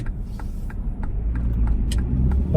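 A car passing behind on the road, a low engine rumble that grows louder toward the end of the clip, with faint ticking in the background.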